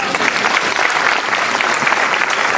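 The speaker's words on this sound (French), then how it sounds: "Est-ce qu'on peut acclamer le Seigneur," A church congregation in Martinique bursts into loud, sustained applause, dense and close clapping filling the space without pause, with faint voices mixed in.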